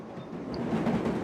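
A steady rumbling video game train in LittleBigPlanet 3 rolls along with a continuous low drone and faint rhythmic clatter, no voices present.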